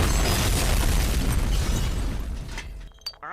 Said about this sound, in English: Self-destruct coin slot has been activated. 10 seconds till detonation.